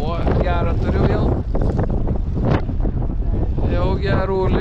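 A strong crosswind at a perch-fishing canal rumbles and buffets the microphone without letup, while someone talks over it throughout.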